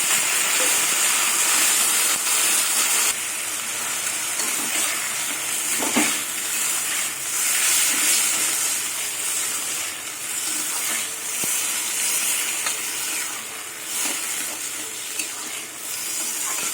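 Boiled bottle gourd with raw ginger, turmeric and green chillies sizzles and fries steadily in a pan, a constant bright hiss with occasional scraping stirs and soft clinks, no voices.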